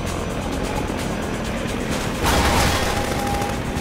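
An attack helicopter firing at the player in Half-Life 2, a dense rattle of rapid gunfire over constant rotor noise, swelling louder past the midpoint with a sustained whine.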